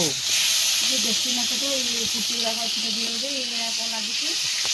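Fish sizzling in hot oil in a home kitchen, a steady broadband hiss running throughout with a voice talking over it.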